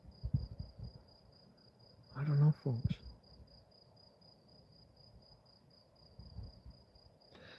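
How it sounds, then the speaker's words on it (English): Crickets chirping after dark on a summer night outdoors, a steady faint high trill running throughout, with brief bursts of nearby movement and a man's short remark in the middle. "if you can hear them more than 5 or 10 minutes after dark, they're crickets"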